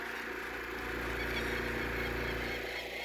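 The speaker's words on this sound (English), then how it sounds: "Can you hear that bird?" A goose-like bird honks repeatedly outdoors in the rain, steady and somewhat distant, over a constant hum of a running generator.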